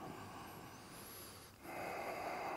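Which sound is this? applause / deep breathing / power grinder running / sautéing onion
deep breathing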